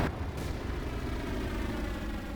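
An empty tank blows up in the video game Forgotten Honor during a desert raid, one loud booming blast that rolls on as a dense, sustained rumble.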